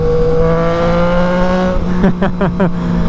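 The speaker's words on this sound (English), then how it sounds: "Dude, that exhaust sounds good." A Triumph Street Triple RS motorcycle idles with a steady harmonic hum, then its exhaust rises through several quick, sharp revs in succession, loud and close.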